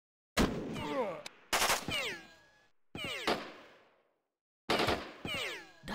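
Separate pistol shots in Jagged Alliance 2, each a sharp crack with a ringing tail, spaced irregularly with quiet gaps between them.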